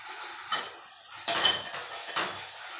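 A spoon scrapes and clinks against a pan while stirring black masala with roasted coconut, three distinct close strokes spaced about a second apart over a quiet background.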